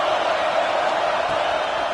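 A football video game crowd roars steadily on a big third down, a dense, loud, continuous wash of cheering with no pauses.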